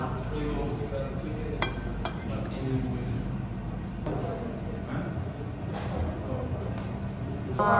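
Glasses clink together in a toast at a food stop in Sulu, a few sharp bright clinks over steady chatter and restaurant background noise.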